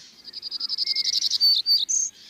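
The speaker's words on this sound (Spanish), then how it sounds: "es un clarín jilguero cantando una melodía que llena los bosques mexicanos" A brown-backed solitaire's bright, flute-like song: a rapid series of rising whistled notes followed by a few clear, ringing phrases, close and distinct against a quiet background in a Oaxaca forest.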